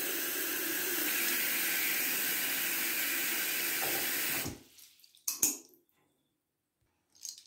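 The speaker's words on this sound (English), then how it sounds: "Hey, it's me, Thomas, and I'm taking a bath." Water gushes steadily from a tap into a bathtub, a loud continuous splashing rush for about four seconds before it cuts off, followed by a couple of brief drips and small clunks in near silence.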